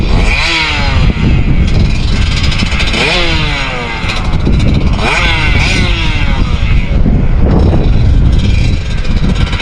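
A two-stroke dirt bike climbs a hill with loud, crackling revs that rise and fall in repeated bursts as the rider works the throttle, close by and dominating throughout.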